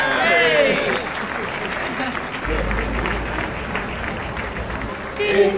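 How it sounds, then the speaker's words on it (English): A small crowd at an outdoor street carol singing claps together in brisk, steady applause lasting a few seconds, fairly close. "Big clap."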